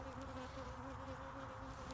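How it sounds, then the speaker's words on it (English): Honeybees buzz around a beekeeper in protective hood during a spring hive check, a faint steady drone with a clear hum line and a couple of brief, closer passes. "I've had to put my hood on because I'm getting pinged by a couple of bees"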